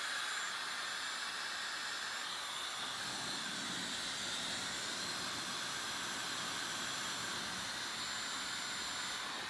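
Hair dryer blowing hard while drying natural curly hair through a strainer, a loud, steady, close rushing whoosh that holds unchanged throughout with no talk.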